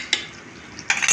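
Roast being stirred in a pan with ghee and 7-8 chillies: brief utensil scrapes and clatter over a low sizzle, one near stroke early and a louder cluster of scraping at the end.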